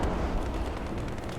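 Tank cannon firing a blind shot in War Thunder, heard as a deep, rumbling boom that rolls on low and heavy across the whole moment.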